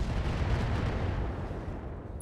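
Mech weapons fire in the RogueTech mod of the BattleTech video game, a dense booming barrage of heavy shots that rumbles continuously and fades slightly toward the end, with no talking.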